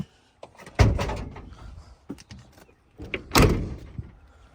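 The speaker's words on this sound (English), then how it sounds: "them doors don't want to close. You got to push them babies hard." Doors on a 1984 Buick Regal LS with new door seals slammed shut twice, two hard, loud thuds a few seconds apart with softer handling clatter between them and no talking.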